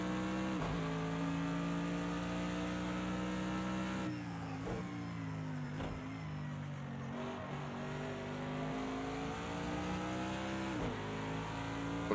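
Mercedes-AMG GT3 race car in Project CARS 2 at Bathurst, carrying a moderate fuel load, its engine droning steadily at high revs throughout, with brief gear-change dips and pitch shifts as it laps alone.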